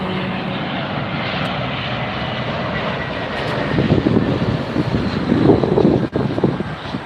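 A departing airliner at Tampa Airport roars steadily as a broad jet engine rumble mixed with wind noise, swelling louder toward the end as it passes.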